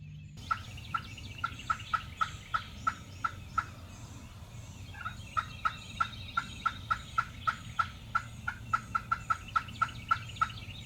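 An Osceola wild turkey gobbles at a distance in the open during an April hunt, with repeated short gobbling bursts that pause briefly and then resume, no voices.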